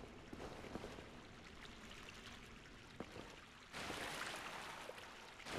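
Water flows in the Dark Souls video game, a soft continuous rushing and trickling wash that swells louder partway through, faint and steady with no voices over it.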